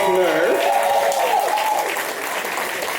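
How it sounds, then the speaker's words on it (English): An audience at a Dutch kiki scene awards ceremony breaks into a round of applause: dense, sustained clapping with a voice heard over the opening moments. "Give them a round of applause"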